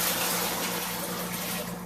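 Water pouring into the tub of a Panda portable washing machine as it is filled, a steady close gushing rush with no pauses and no voices.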